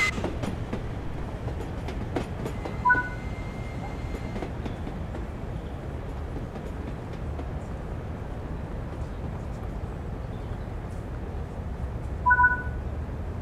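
A steam train in the video game Train Sim World 3 rumbles steadily with a low mechanical hum, and two short whistle-like tones sound briefly, one early and one near the end.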